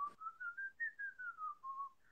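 A single person whistles one sustained, wavering melodic line of several connected notes rising then slowly falling, close and fairly quiet, with a brief soft noise at the start and no talking.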